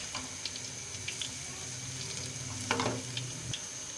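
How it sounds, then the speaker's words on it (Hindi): Pakoras deep-frying in oil for Punjabi kadhi: a soft, steady bubbling sizzle, fairly faint, over a low background hum, with a brief louder crackle near the end. "आपके हमारे पकौड़े फ्राई हो रहे हैं"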